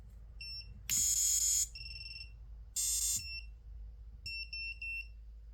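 Electronic beeper on an Exen Design Orca 5 FPV drone sounding on power-up, a few loud bright tones followed by shorter chirping beeps, close and alone.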